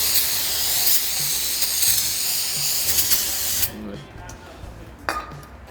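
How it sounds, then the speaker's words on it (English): Brake cleaner sprayed liberally onto the rotors of an Alcon big brake kit, giving a loud, steady aerosol hiss for several seconds that cuts off sharply, followed by quieter workshop sounds and a brief clink. "you just want to use a brake cleaner to clean them off"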